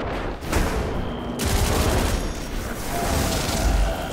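Loud gunfire in Destiny 2, dense bursts of rapid shots and booms that continue across the whole stretch with brief dips.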